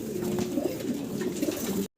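Pigeons of a fancy breed coo over and over, close and fairly loud, with several birds overlapping; the sound cuts off abruptly near the end.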